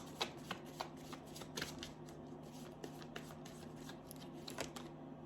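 Tarot cards being shuffled and drawn during a reading, a soft, continuous riffling and flicking with irregular sharper snaps, fairly quiet and close, with no talking.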